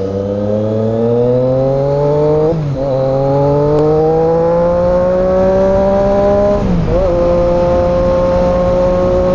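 A Triumph Daytona 675 motorcycle engine drones steadily while riding on a rough, bumpy road, its pitch climbing through the gears with two brief dips at shifts; loud and close throughout, with no talk.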